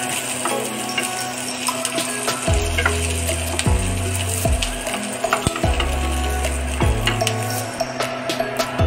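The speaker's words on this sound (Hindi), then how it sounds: "पहले अदरक लहसुन और प्याज को फ्राई करना है" Ginger, garlic and onion fry in a pan for matar paneer, giving a steady loud sizzle with several sharp knocks and scrapes of a utensil against the pan at intervals.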